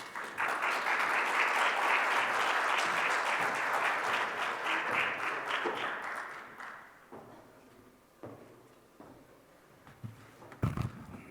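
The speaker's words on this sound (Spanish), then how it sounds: "a quien vamos a recibir con un fuerte aplauso" An audience at a 2022 cybersecurity summit breaks into loud, dense applause that swells and holds for several seconds, then thins out and fades to scattered claps.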